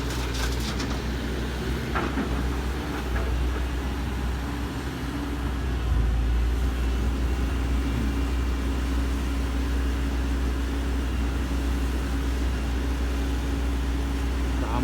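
A Volvo EC210D excavator, around 4,000 hours, works hard soil, its diesel engine a continuous low rumble with a slight surge partway through, steady and fairly close, no voices.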